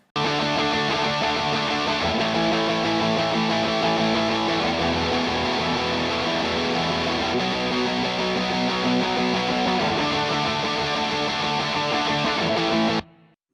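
Two layered rhythm electric guitar tones, one from a Soldano SLO100 amp pack with light crunch, play a loud, steady, dense distorted riff that runs continuously and then cuts off abruptly at the end.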